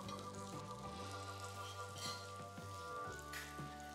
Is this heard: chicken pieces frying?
yes